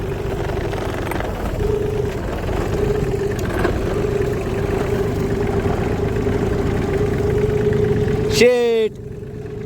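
A tractor engine runs at a steady idle in a farm setting, its low mechanical hum continuing throughout with a brief rev or clatter near the end, heard fairly close under some background noise.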